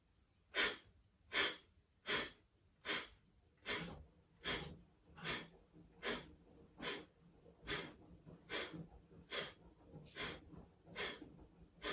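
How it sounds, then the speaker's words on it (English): Breath of fire yoga breathing: steady, rhythmic forceful nasal exhalations, about sixteen evenly spaced puffs, close and clear with quiet gaps between each breath. "we could do this a bit more like the breath of fire"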